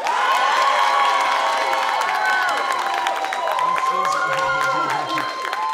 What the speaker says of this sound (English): And now, by applause, who favors the turkey?